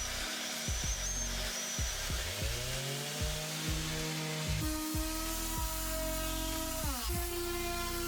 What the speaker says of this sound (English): To start, I sanded with 100 grit sandpaper.